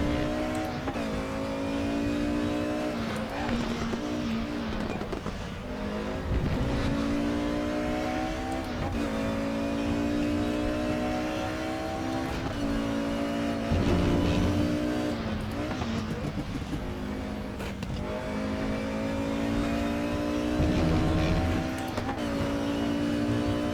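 A small 4-cylinder race car engine in RaceRoom Racing Experience revs hard toward 10,000 RPM, loud and close, with repeated rising pitch sweeps through the gears and short dips between shifts across the whole stretch, no talking.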